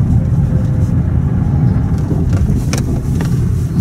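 Loud, steady engine rumble of a car driving along a residential street in Neftekamsk as the thaw sets in, rising slightly as it speeds up, with faint clicks near the end.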